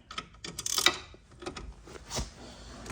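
A 3/8 ratchet clicks in short bursts, mixed with metallic tool handling and rattling, while working on the brake calipers of a Volvo S40 T5; close and fairly quiet.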